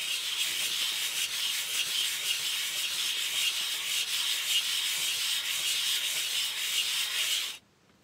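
Steady, close rubbing of abrasive sanding on a CPU socket, a continuous hiss-like scraping for about seven seconds that stops suddenly.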